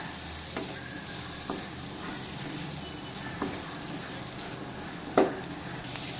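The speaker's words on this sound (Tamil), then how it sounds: "வாழைக்காயில மசாலா பொருட்கள்லாம் சேர அளவுக்கு நல்லா கிளறி விட்டுக்கலாம்." Fried raw banana pieces with masala being stirred in a pan: a steady sizzle and frying hiss with occasional spoon scrapes and taps against the pan, close and continuous.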